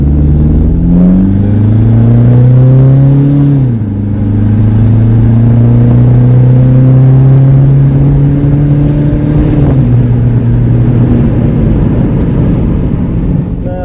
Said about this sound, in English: I highly doubt you guys are going to be hearing that exhaust note from inside the cabin